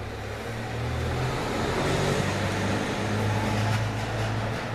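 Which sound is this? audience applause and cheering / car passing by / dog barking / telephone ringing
car passing by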